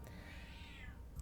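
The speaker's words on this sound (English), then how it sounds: "hi kitty" A cat gives a single drawn-out meow, faint and a little distant, rising and then falling over low background hum.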